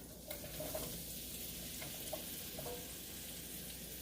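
Sweet potatoes fry in a little oil in a hot skillet, giving a steady close sizzle with faint clinks and stirring scrapes, and no voices.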